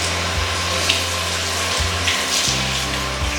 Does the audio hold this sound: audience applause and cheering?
no